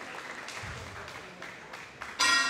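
Steady applause from a boxing crowd fills the space at moderate volume, swelling toward the end as a voice comments over it.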